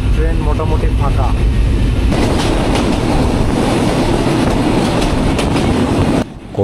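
Shimanto Express passenger train running on the tracks toward Khulna, a steady loud rumble with rhythmic clatter close by, continuing throughout before briefly dropping away near the end.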